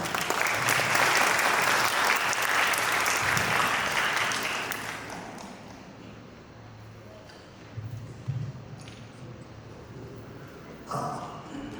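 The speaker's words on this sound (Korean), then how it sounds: "여러분 우리 아버님께 뜨거운 박수를 부탁드리겠습니다" At a wedding hall in Gwangju, guests give the groom's father a warm round of applause that stays loud for about five seconds, then fades into a quiet room with light murmuring and a few stray sounds.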